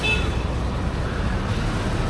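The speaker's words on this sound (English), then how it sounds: "Wow, this is a magic machine. I don't even know what is it. A car engine on the motorcycle." A motorcycle fitted with a car engine runs on a busy street in Manila's Binondo Chinatown, a dense, steady engine rumble blended with surrounding traffic noise, close and fairly loud throughout.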